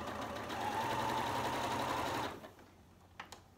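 A sewing machine runs in one steady, close hum for about two seconds while stitching small fabric scraps together for crumb quilting, then stops, followed by a couple of light clicks.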